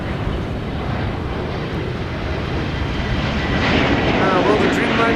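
A passenger jet arriving from Istanbul lands at Amsterdam Schiphol in high storm winds, with a steady broad engine roar that swells slightly near the end, heard from a distance over wind noise.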